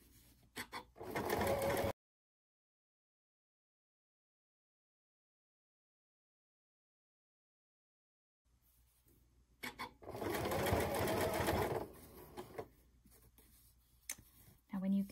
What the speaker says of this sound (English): Keep checking that your binding is pulled nice and snug, and just keep on sewing.